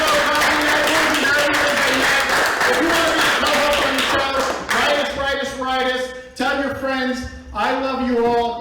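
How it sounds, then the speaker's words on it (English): An audience at a comedy night applauds the comedians, a dense wash of clapping beneath someone speaking loudly over it, the clapping thinning out as the talk continues. "big round of applause for all the comics tonight"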